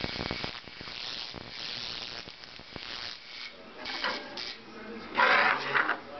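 Handheld Electro-Technic BD-10AS Tesla coil throwing an inch-long spark to a piece of metal, a steady harsh buzzing crackle with louder, sharper bursts near the end.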